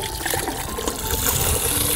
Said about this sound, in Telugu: ఈ పాలు పోసుకుంటాం అండి ఫస్ట్.